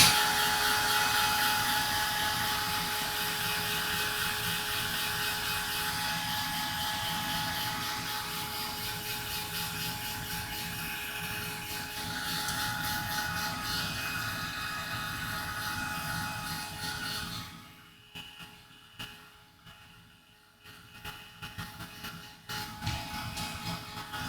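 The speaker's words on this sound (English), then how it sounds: "So I'm going to go ahead and dry these two." A dryer blows over freshly painted journal covers, a loud steady whooshing hum that runs for most of the stretch before cutting off and giving way to faint handling noises.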